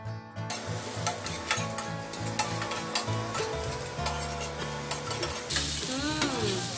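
Meat frying in a pan at an Indonesian street food stall, a continuous sizzle with scraping stirring strokes and the clink of utensils, close and fairly loud, no talk over it.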